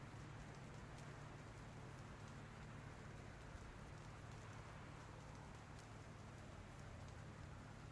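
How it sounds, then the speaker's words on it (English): Rain sound effects play during a live horror-themed tabletop game session, a soft, continuous hiss of falling rain with faint scattered drops, steady and fairly quiet throughout with no talk over it. "I didn't know the rain sound effects were that realistic."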